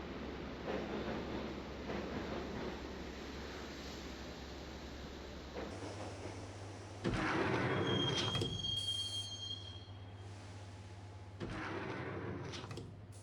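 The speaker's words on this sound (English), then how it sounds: "the train doors had already shut behind me, and I was in for the ride" A subway train in the game Max Payne rumbles along with a loud continuous roar, joined partway through by high metallic wheel squeals and harsh clanks, close and with no talk.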